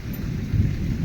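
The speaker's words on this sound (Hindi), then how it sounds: "घड़घड़ी मारुची घड़घड़" Low thunder rumbles with rain falling during a monsoon downpour in a rural Odisha village, a short steady low roar with a slight swell, no speech.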